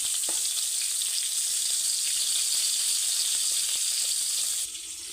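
Pointed gourd (potol) fries slowly in oil under a lid, giving a steady, dense, close sizzle that softens slightly at the very end, with no voices.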